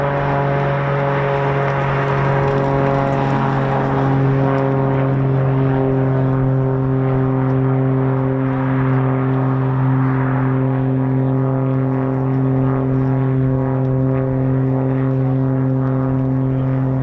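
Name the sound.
Swiss F-18 Hornet military jets taxiing at RAF Leeming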